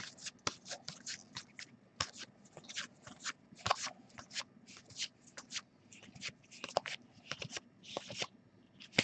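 Paper sheets being shuffled and flipped during a baseball card break of 2018 Bowman Draft packs, giving a dense run of quick, crisp rustles and snaps close to the microphone, with no talking.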